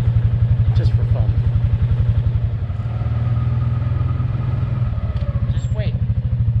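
Vehicle engine idling and riding steadily around a dispersed campsite on Rim Road #300, a close, continuous low throbbing throughout, with faint talk and light clatter over it.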